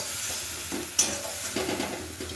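Spices for an egg and dal dhoka curry sauté in a pan with a soft, steady sizzle, broken by a sharp scrape of the spatula and a few quieter stirring strokes close by.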